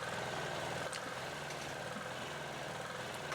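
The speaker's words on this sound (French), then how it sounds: "Le moteur ne tournait pas rond." A diesel generator converted to run on used frying oil or vegetable oil chugs unevenly, its low throbbing engine note fluctuating as it runs roughly, heard fairly close with no talk.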